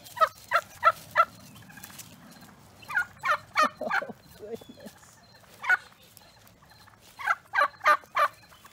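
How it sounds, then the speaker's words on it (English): Several turkeys gobble in quick rippling bursts, close by, calling repeatedly with short pauses between, over faint background noise. "Come on, here's my turkeys."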